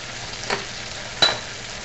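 Spaetzle and onions tossed in butter in a pan give a soft, steady sizzle with two brief scraping stirs about a second apart, fairly quiet and close.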